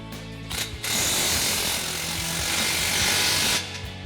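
Tightening an exhaust clamp on a 2019-2024 Sierra 1500 during a dual exhaust install, probably with a power tool: a steady, loud mechanical whirring run of about three seconds, starting and stopping abruptly, with no talking.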